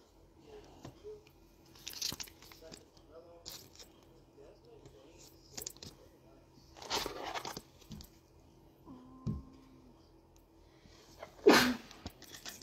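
A single sharp sneeze bursts out near the end, preceded by scattered rustling, crinkling and faint chewing-like noises in a quiet indoor room where people are opening sports trading card packs.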